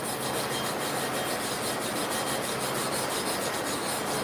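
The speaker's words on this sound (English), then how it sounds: "This is just a little piece of wood that I'm getting it into the porous surface of the plate" A small wood piece is rubbed back and forth to work abrasive into the porous surface of a clipper-blade sharpening plate, giving a continuous close, even gritty rasping with a fast steady rhythm and no voice.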